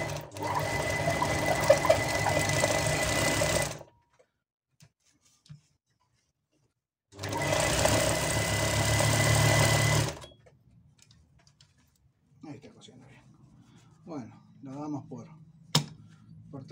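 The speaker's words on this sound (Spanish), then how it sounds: "Está cosiendo bien." A Brother industrial sewing machine stitches in two loud, steady bursts of about three seconds each, separated by silence, followed by quieter handling sounds.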